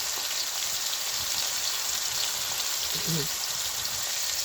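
Cabbage dropped into hot oil for a Bengali cabbage ghonto, a steady broadband sizzle and crackle filling the whole span at even loudness, with a faint low thump near the end.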